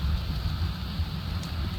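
Steady broadband hiss of video game rain falling in an outdoor scene, a continuous even wash with low rumble beneath, no voices.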